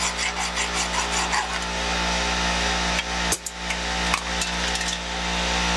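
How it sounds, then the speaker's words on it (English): A round file scrapes burrs from metal brake parts on a GMC 7000 truck, making short rasping strokes over a steady low engine hum nearby. "a rounded file, make sure there's no burrs"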